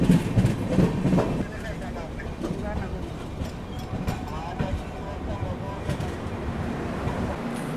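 Jhelum Express passenger train pulling into Uruli railway station near Pune, a low continuous rumble of rolling wheels and carriage noise with a few louder knocks early on, steady and fairly close, with faint talk underneath.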